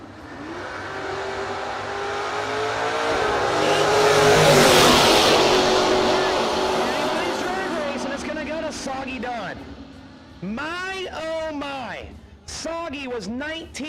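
A 1968 Camaro and a fourth-generation Camaro launch in a no-box drag race, their engines roaring up to a loud peak and then fading as they pull away, with an announcer talking over the noise.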